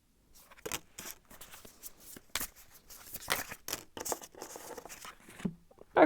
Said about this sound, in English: So I'm going to shuffle a bit more.